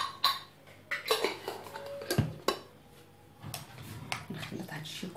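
A large spoon stirs eggplant stuffing mixed with homemade tomato sauce in a bowl, giving a series of irregular clinks and scrapes against the dish, close and moderately loud, with quieter rustling between the sharper knocks.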